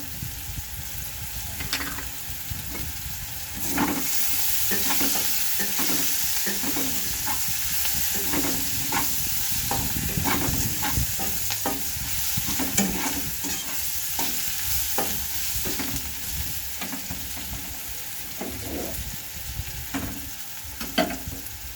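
Flat bean and potato mixture with salt and green chillies being stir-fried in a pan: a steady close sizzle with repeated scraping strokes of the spatula at an even rhythm, no talk.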